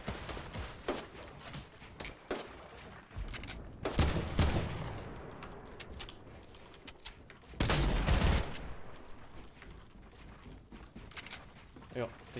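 Gunfire in a video game, with turret fire among it: scattered shots and two loud, sustained bursts of rapid fire, interspersed with clicks and mechanical clatter while a player talks throughout.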